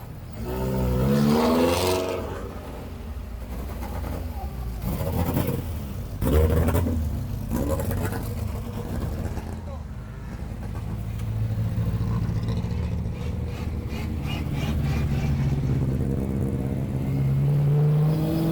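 Race cars in Montenegro pull away after an amateur race, their engines revving and accelerating in several loud surges, with a rumbling drone that fades and builds again as more cars depart nearby.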